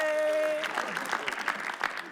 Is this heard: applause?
yes